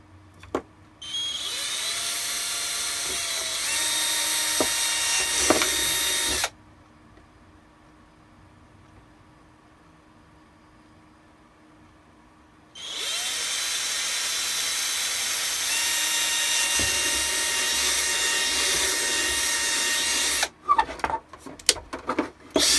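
A power drill bores holes in Shadow Trooper armor, two steady high-pitched whining bursts of several seconds each separated by a quiet pause, then a few short clicks and handling noises at the end.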